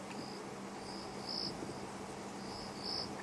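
A single cricket chirps at night on a safari drive, sounding in short, evenly spaced trills against a quiet background hum, faint and somewhat distant.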